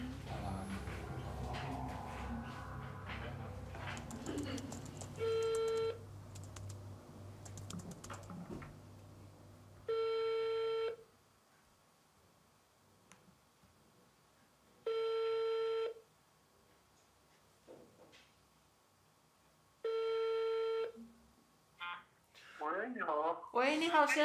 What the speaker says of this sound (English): A few days later, we try to reach him by phone.